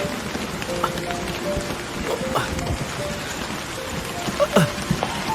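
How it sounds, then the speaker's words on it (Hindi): Steady rain falls and patters on surfaces throughout, a dense close hiss with scattered louder drops and a few faint background sounds. "बारिश हो रही है।"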